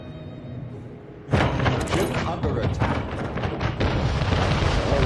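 A pirate ship in Anno 1800 is blown apart and sinks, starting with a sudden heavy boom, then a chain of crashing thuds and bursts that keep going loudly to the end.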